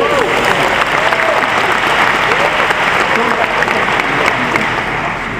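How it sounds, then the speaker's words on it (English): A large audience at Nintendo's E3 2011 presentation applauds an orchestra that performed Legend of Zelda music, a loud, dense wash of clapping with scattered cheers, sustained steadily throughout. "let's give a big round of applause for our orchestra today"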